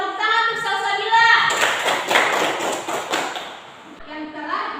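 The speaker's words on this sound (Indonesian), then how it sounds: "Tepuk tangan untuk Salsabila." A class of students claps for a classmate in a brief burst of clapping, with voices speaking before and after it.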